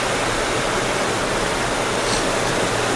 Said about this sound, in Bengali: কি হাওয়ার বৃষ্টি হচ্ছে